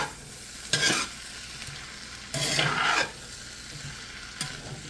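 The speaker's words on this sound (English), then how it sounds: "Give this a good stir here." A pan of frying potatoes sizzles steadily while being stirred in three separate bursts, each stir a short scraping rustle over the constant hiss, close and clear with no voices.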